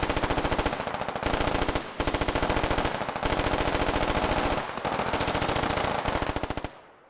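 Sustained automatic machine gun fire in the tactical shooter game Squad, loud rapid bursts running almost continuously with only a few brief gaps before cutting off at the end.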